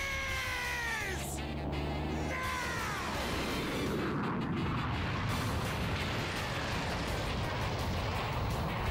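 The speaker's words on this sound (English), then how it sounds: "Use the spirit bomb." Spirit Bomb attack in a Dragon Ball fighting game against Kid Buu: a loud, dense energy blast roar runs continuously, with falling whistling sweeps near the start before a sustained rumbling, crackling wash.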